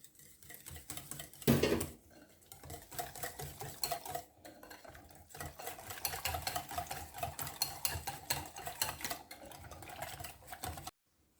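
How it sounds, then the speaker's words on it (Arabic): Quiche batter ingredients, including milk, whisked steadily in a bowl, a dense run of rapid clinking and scraping strokes close by that carries on without pause, with no voices over it, and stops abruptly at the end. "غادي نخلط هاد المكونات مزيان مزيان"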